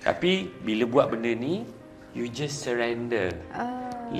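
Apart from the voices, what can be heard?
None of the usual background noises is heard.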